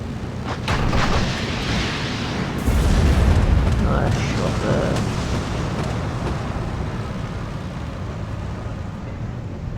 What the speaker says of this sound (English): I think I'm going to try and get a side shot here with the Jack 7B rockets.